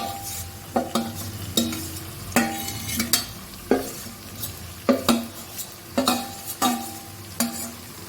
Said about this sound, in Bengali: করে খন্তি করে কাচিয়ে দিলাম